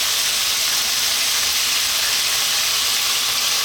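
Onion dropped into a very hot pan alongside seared steak over high heat hisses in a loud, continuous, even sizzle that holds steady throughout.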